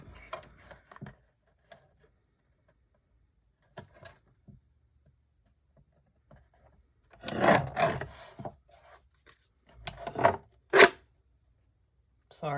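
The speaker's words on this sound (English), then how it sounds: "I'm using the decal trimmer just to put a little more interesting edge on it." A decal trimmer cuts a decorative edge into a paper craft piece, giving short scattered rasping clicks, then two louder bursts of gritty cutting near the end, with long quiet gaps in between.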